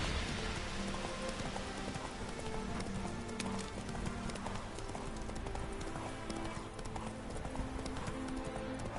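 Roach, the horse in The Witcher 3 video game's Hearts of Stone expansion, gallops with continuous hoofbeats under a dense rain-like wash of noise that fills the whole stretch at a steady loudness.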